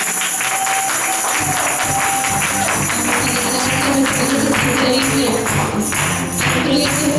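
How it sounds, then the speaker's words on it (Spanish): A church congregation claps during an online worship gathering, a sustained, loud wash of hands with music and tones running underneath, continuous and close for several seconds. "Dale un fuerte aplauso al Señor en esta hora."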